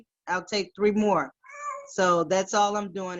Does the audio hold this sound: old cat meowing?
yes